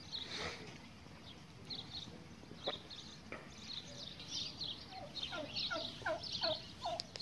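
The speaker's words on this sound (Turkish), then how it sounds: "Bak burada da hindi var Ertuğrul." Turkeys gobble in repeated rapid bursts at a zoo, growing busier toward the end, over a faint outdoor background with soft thuds.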